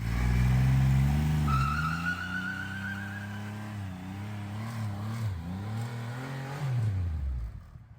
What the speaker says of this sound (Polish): Ten silnik jest niekulturalny, on naprawdę brzmi niekulturalnie